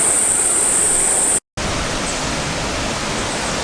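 Powerful rushing water plunges a long way down into a deep, clear rock pool, a loud steady broadband roar that fills the scene, broken by one brief dropout before resuming unchanged.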